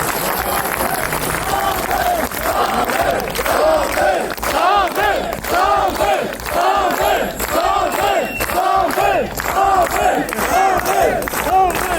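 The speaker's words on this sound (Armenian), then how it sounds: "Հավաքված տասնյակ քաղաքացիները ի պատասխան սկսել են բարձր ծափահարել եւ վանկարկել ազգային բարերար Սամվել Կարապետյանի անունը" Dozens of citizens applauding and chanting Samvel Karapetyan's name in a rhythmic, repeated crowd chant, loud and steady, with clapping underneath the chant throughout.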